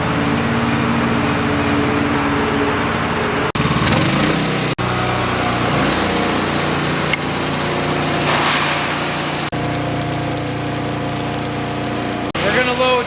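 Skid loader engine running steadily up close during a ride on a farm at planting time, a continuous mechanical drone with a few abrupt shifts in tone and clunks.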